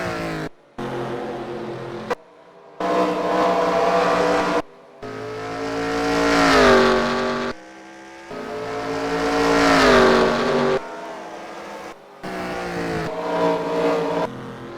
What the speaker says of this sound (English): Jordan Stout just now entering turn 3